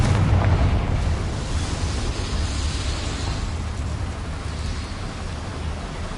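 Confringo spell explosion in Hogwarts Legacy, inside a small mine: a loud, close burst followed by a long roaring rumble that slowly fades away.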